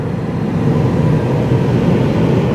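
A passenger train pulls into Nangang station in Taiwan, making a loud, steady low rumble and rolling roar that holds evenly throughout with no voices.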